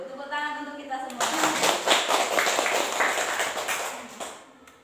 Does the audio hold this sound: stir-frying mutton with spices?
no